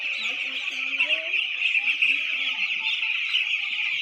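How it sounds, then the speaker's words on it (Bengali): Six-day-old poultry chicks on a farm cheep in a dense, continuous high chorus, close and steady, while a person talks over them. "এই দেখো মুরগি আমাদের, ছোট্ট ছোট্ট মুরগি"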